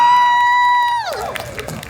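At a Hong Kong games and anime festival stage show with Pokémon, a bright electronic tone slides downward, then a large indoor audience breaks into cheering and clapping, loud and close.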